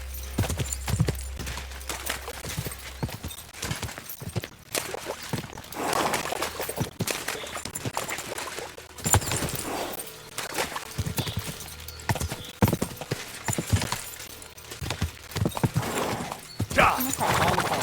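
Horse hooves clip-clop at a slow walk in the medieval game Kingdom Come Deliverance 2, a steady rhythmic plodding with an occasional whinny, mixed with game ambience and someone talking over it.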